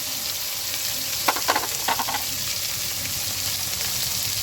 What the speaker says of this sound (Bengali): হলুদ দিয়ে মশলাটাকে ভালো করে কষিয়ে নিচ্ছি